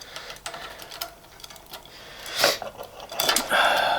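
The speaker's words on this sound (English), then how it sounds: "Torque wrench." A torque wrench clicks as it tightens a bolt into aluminium on a bicycle chainset, giving a few sharp metallic clicks and a ratcheting rattle near the end against a faint background hiss.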